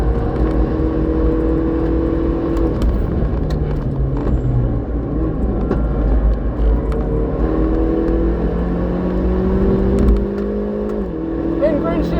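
A Hyundai i30 N with a performance filter laps the Morgan Park race track. The engine revs loud and close with a steady drone, climbing in pitch through the gears, and shifts sound clearly as it powers up a hill.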